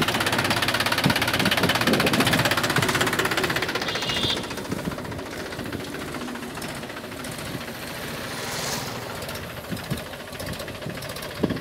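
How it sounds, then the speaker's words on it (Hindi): A 35 HP three-cylinder Mahindra 265 DI tractor engine runs close by with a steady, knocking diesel chug, loud at first and then settling slightly, with faint clatter on top. "35 HP 3 सिलेंडर महिंद्रा 265 DI बहुत गजब ट्रैक्टर।"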